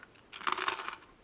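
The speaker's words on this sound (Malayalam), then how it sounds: "നല്ല മുറുക്കുണ്ട്, കടിച്ചോട്ടെ" A single crunchy bite into a homemade rice flour murukku, a brief close burst of crisp cracking that lasts under a second against a quiet background.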